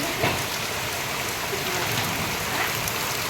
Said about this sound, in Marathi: पावसाने मस्त छान सुरुवात केली आहे मोसम बनवला आहे